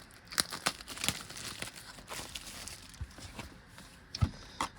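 A Hobbit booster pack wrapper is torn open: close, crinkly plastic rips and crackles in quick, uneven bursts, with a sharp final tear near the end.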